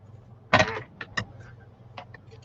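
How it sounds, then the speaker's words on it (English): Scissors cut along the edge of a paper bag being trimmed for a junk journal, giving a few crisp, close snipping and crinkling bursts, one strong burst followed by lighter ones, with no talking. "And just cut along that edge there."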